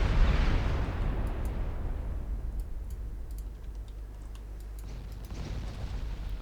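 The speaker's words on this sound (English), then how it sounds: "we do get a torpedo hit on Alabama" A torpedo strikes the battleship Alabama in a 1947 naval warfare game: a deep muffled boom opens, then a long low rumble fades out with faint scattered ticks above it.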